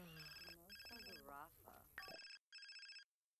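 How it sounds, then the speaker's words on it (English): A phone rings in The Sims 4 video game, an electronic ringtone in repeated bursts. It is heard partly under a voice, then alone. "her phone was ringing"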